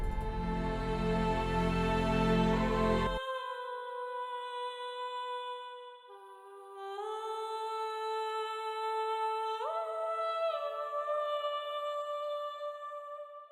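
A solo soprano voice sings sustained, pure notes that glide slowly between pitches, heard alone after a dense orchestral swell cuts off, in an uplifting cinematic track.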